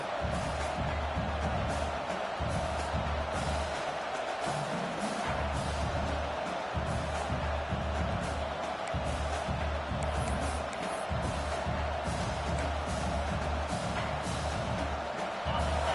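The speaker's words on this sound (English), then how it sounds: "This crowd, full throat, spreading the eardrums and letting them know it's going to be a long day." A stadium crowd at a college football game roars in a steady, loud, unbroken wash of noise from start to finish.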